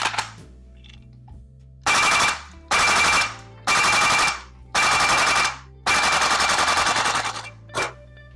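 A VFC AKS74U airsoft gas blowback replica fires at room temperature in five loud, sustained full-auto bursts, each a rapid mechanical clatter, followed by a short final burst, with no voices.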